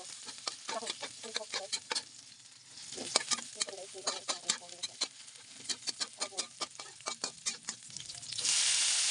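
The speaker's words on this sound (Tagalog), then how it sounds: "igigisa na natin siya" Chopped ingredients sautéing in a hot pan with green beans on hand, a bright continuous sizzle broken by rapid scraping and tapping of a spatula, close and lively, with a short hiss swelling at the end.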